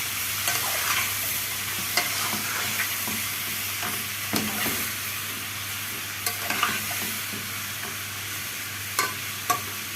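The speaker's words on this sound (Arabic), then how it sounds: "هتقلبيها بقى تقليبتين كده" Sausage sizzles steadily in a frying pan on a home stove while a spoon or spatula stirs it, with scattered scraping clicks over a continuous frying hiss and no talking.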